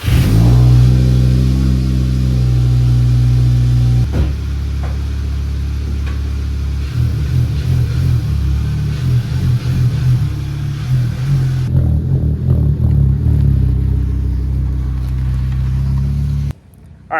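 A car engine cranks over on jump-start power, catches and revs several times, loud and close throughout, settling into a rough idle before cutting off near the end, with no talking.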